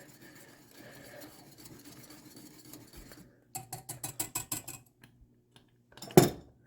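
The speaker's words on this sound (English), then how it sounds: "Stir that in." BBQ sauce being stirred in a pot, with soft utensil scraping that gives way to a burst of sharp metallic clinks and taps from a spoon against the pot, close and fairly quiet.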